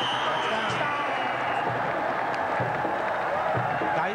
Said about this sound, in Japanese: 4万観衆が先ほどからワーワーという大歓声